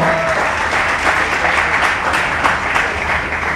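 Audience at an awards ceremony for young women entrepreneurs breaking into loud, sustained applause, a dense wash of clapping with a faint murmur of crowd underneath.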